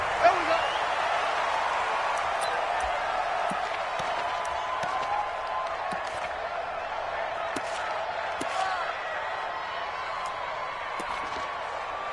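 An NFL stadium crowd at an Eagles versus Ravens game keeps up a steady, distant roar with scattered claps and shouts, while voices talk over it throughout.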